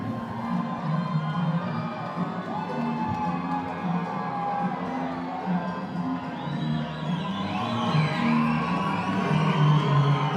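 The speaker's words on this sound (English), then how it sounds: "Milton Rogue coming to us with a cheering section today" A crowd at an amateur 140-pound title boxing bout cheers and whoops continuously, with a swelling roar of mixed shouts and yells that grows slightly louder near the end.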